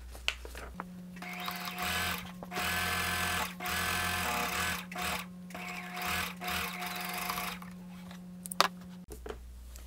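Sewing machine stitching a line on fabric, close up, with a steady motor whine and rapid needle clatter in several short bursts separated by brief stops, no voices.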